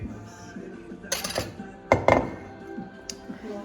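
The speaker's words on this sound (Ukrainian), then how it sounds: "Так, достаю красиво тарелочку." Dishes and cutlery clink as a plate is handled, with a few sharp clattering bursts close by over a quiet room.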